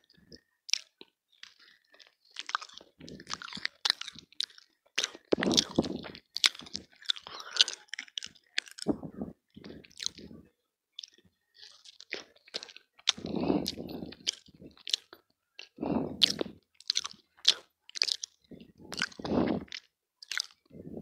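Close-up ASMR eating of pizza and fries, with repeated crunchy bites and wet chewing in irregular bursts, intimate and alone without talk.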